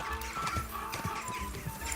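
A horse in Kingdom Come: Deliverance 2 trots along with a steady, rhythmic clip-clop of hooves, moderately close, over a faint ambient bed.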